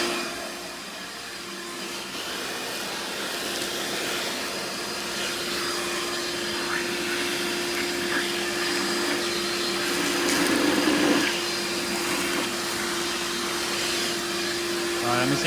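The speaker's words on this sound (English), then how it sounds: "I'm gonna vacuum all this up." A shop vacuum runs continuously at close range, sucking up debris while cleaning an engine manifold and riser, with a steady loud whine and roar that swells slightly as material is drawn in; a voice speaks faintly beneath.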